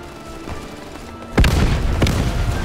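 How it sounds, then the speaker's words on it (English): Artillery shells burst in the WWII shooter Easy Red II during the Stalingrad Volga River crossing: two heavy booms close by, the first loud and sudden, a second following about half a second later over a rumbling battlefield. "Incoming artillery cover."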